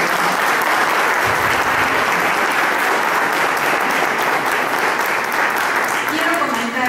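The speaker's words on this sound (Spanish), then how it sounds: "vamos a darles un aplauso." Audience at a municipal social services event applauds, sustained loud, even clapping from a crowd lasting several seconds with some voices mixed in.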